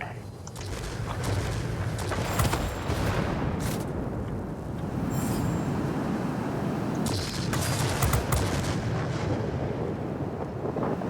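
Aerial combat in World of Warplanes roars continuously, with engine and wind noise layered under repeated bursts of rapid gunfire that flare up and fade across the stretch.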